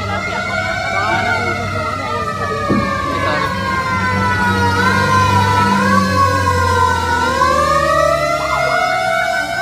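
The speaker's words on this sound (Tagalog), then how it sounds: "Kasi ang daming nagdadatingan na bumbero." Fire truck sirens wail continuously as engines arrive at a store fire in Baliuag, Bulacan, loud and rising and falling in overlapping tones, with traffic rumble underneath.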